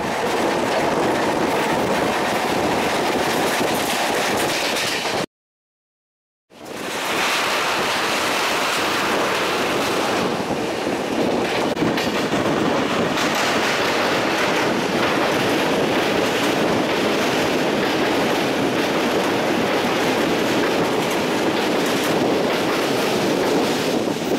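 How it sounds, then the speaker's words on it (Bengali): A train running on the rails in North Bengal near Alipurduar Junction after crossing the Teesta, a loud steady rumble with clickety-clack throughout and a brief dropout near the start. "একেবারে ঘড়ি ধরে সময় মিলিয়ে ট্রেন এসে পৌঁছলো"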